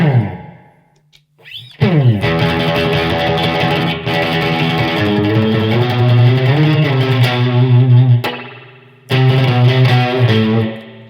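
Electric guitar chords through an HOF2 spring reverb pedal with exaggerated slapback, ringing with a thick, echoing reverb that repeats and trails off, played loud and alone with brief pauses between phrases.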